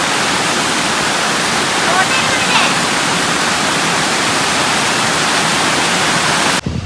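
Rushing water flowing in a stream during the rainy season in Wayanad, a steady, loud, broadband wash that fills the whole stretch without a break, with no voices over it.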